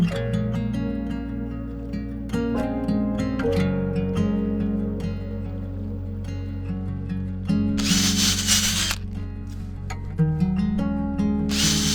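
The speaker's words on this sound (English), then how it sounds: "Just pre-drilling some wax surveillance blocks." A power drill whirs steadily as it pre-drills wax surveillance blocks on a seabird island, its motor tone shifting with load, with a brief burst of higher-pitched grinding near the end.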